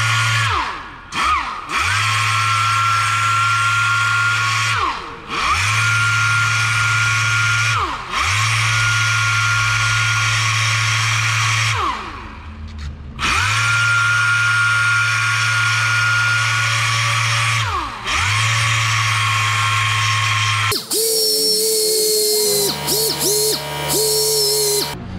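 Power sander working on a plastic car bumper with 150-grit sandpaper, a loud steady whine in long passes broken by short pauses, with a brief change in tone near the end.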